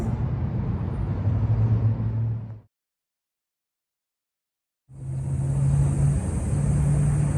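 Traffic rolls past a bus stop in a steady rumble of car engines, broken by a sudden full silence of about two seconds before the road noise resumes, with no voices.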